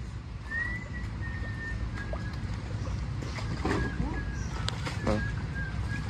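A small paddle boat glides across water on a mangrove tour in Puerto Princesa, with a steady wash and occasional splashes, faint whistling tones and distant voices in the background.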